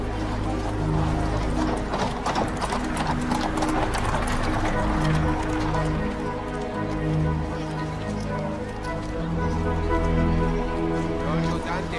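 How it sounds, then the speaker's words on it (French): Several horses pass close by, hooves clip-clopping in a steady rhythm for the whole stretch, over a constant background murmur and an occasional whinny. "Attention aux chevaux, laissez-les passer."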